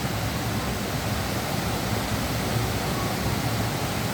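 Erawan waterfall in Kanchanaburi, Thailand, heard close up as a steady, loud, broadband rush of falling water that never varies across the whole stretch.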